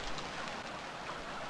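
Steady rain hiss in the survival video game Stranded Deep, a dense even wash of drops falling around an island, constant and fairly quiet with no breaks.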